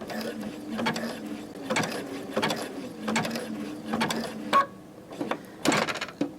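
A sewing machine stitching a button in place runs in short repeated bursts, a rhythmic mechanical whirring and clicking that pauses between runs, close and fairly loud.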